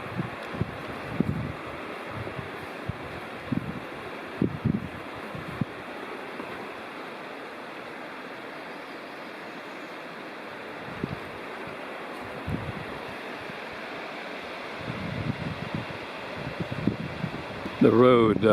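Paint Creek rushes under a trail bridge on the Campground Trail in Cherokee National Forest in spring, a steady broad wash of flowing water mixed with gusty wind buffeting and a few low thumps.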